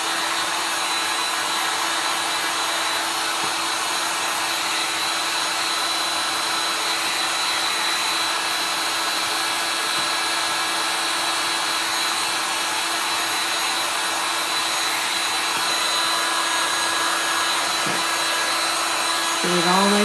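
A hair dryer blows continuously over chalk paste spread on wood, a steady, loud, even whooshing hum that holds unchanged for a long stretch and shifts briefly at the very end.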